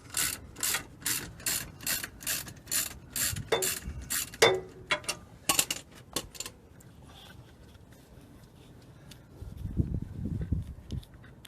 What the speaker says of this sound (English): Right, we'll get this nut off.